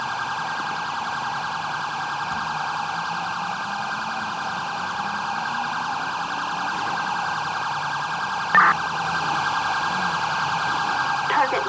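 An ambulance siren in the video game GTA 5 with the LSPDFR police mod wails steadily and loudly throughout, with a continuous tone over engine drone.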